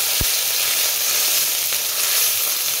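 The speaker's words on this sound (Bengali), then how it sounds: "আমি লঙ্কা বাটা দিলাম, আদা বাটা, জিরা ধনিয়া বাটা, মশলাটা ভাজবো।" Spice paste of ground chili, ginger, cumin and coriander frying over a raised flame for a doi katla fish curry, giving a loud, dense hiss with a single sharp tap near the start.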